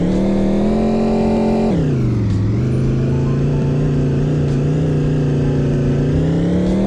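A car engine in the Taxi Driver 3D mobile game on an offroad hill station drive, a loud continuous synthetic drone that drops in pitch as if shifting gear, then steadily climbs again.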